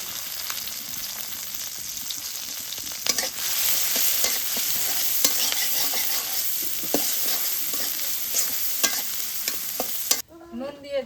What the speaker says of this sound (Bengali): এখন কুমড়া তেলানি করি, পেঁয়াজ কুচি দিয়ে দিই